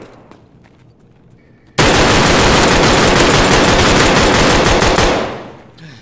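Automatic gunfire in Escape from Tarkov, a single long, loud, continuous burst of rapid shots lasting several seconds before cutting off and fading, with no voices over it.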